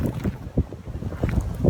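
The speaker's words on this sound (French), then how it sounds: "c'est un vent qui est extrêmement agréable, qui nettoie en même temps" Wind blowing outdoors in gusts, buffeting the microphone with low rumbling bursts that rise and fall irregularly, close and fairly loud.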